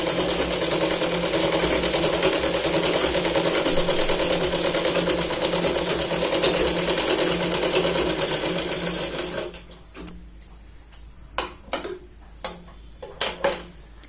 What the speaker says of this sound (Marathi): दोघे सेम ठेवत आपण ना गळ्याला शिलाई लावून घ्यायची पूर्णपणे